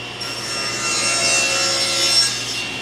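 A table saw rips steadily through wood with a GRR-RIPPER push block guiding the piece, giving a loud continuous whining cut that swells midway and then drops off as the blade clears the board.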